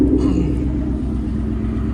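A 2016 Ford F-150 pickup idles nearby with a steady, deep engine rumble, slightly louder at the very start before settling into an even drone.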